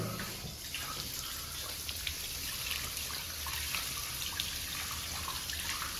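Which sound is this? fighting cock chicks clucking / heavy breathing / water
water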